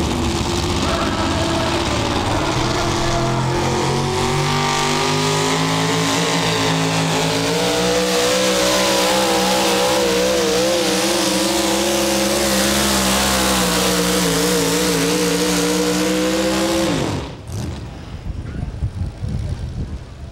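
Chevrolet race cars roar around a track at close range, engines loud and sustained with shifting revs for about seventeen seconds before the sound abruptly cuts off, leaving lower background noise.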